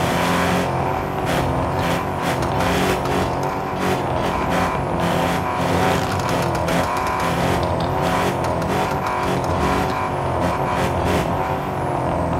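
Continuous, loud car engine roaring and revving with tire squeal in the video game Car Parking Multiplayer, steady throughout with no talking.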